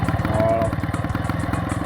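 A Motobécane 51 V moped engine runs close by, a steady rapid putter with slight clatter that continues evenly throughout.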